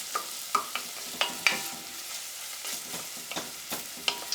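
Garlic and onions frying in a pan for pumpkin chili, a close, gentle sizzle punctuated by regular scraping and tapping from stirring, no talking.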